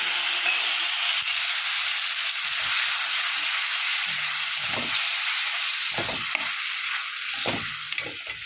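Mustard paste and green chilli sizzle in hot oil with fried potatoes, a loud, continuous hissing fry with occasional low scrapes of stirring throughout, and no one talking.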